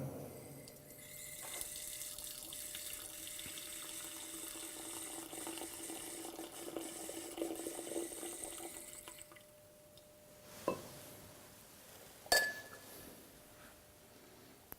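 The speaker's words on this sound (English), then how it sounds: "So I'm going to draw some wine from this barrel." Brunello di Montalcino, vintage 2011, is drawn from a large barrel in a cellar, a faint steady trickle and splash of liquid followed by a couple of sharp glass clinks.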